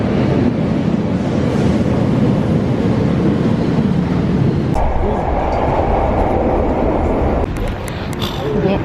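A Paris metro train runs with a loud, steady rumble and rushing roar that shifts in tone partway through, close and continuous.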